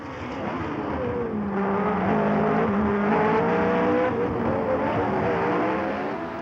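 Onboard a Formula 1 race car, the engine pulls hard as it accelerates uphill on a street circuit, a loud rising whine, steady and close, with no voices.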